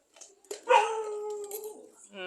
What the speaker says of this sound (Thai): หมาหอน